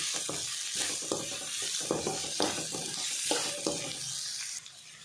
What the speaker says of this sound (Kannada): ಬೀನ್ಸ್ಲ ಕ್ಯಾರೆಟ್ಲ ಪಾಡಿಯ ಒಂದಂತೆ ಮಿಕ್ಸ್ ಆಗಿ ಒಂದು ಬೇಯಡೊಂದು ಅಡಿಗೆ ಫ್ರೈ ಆವಡು